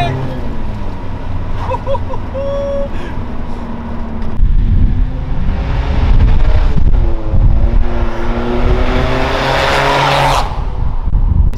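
A tuned 260 HP diesel VW Polo estate with a bigger turbo accelerates hard, its engine note rising loudly and steadily as the tires smoke, with a voice shouting over it near the end.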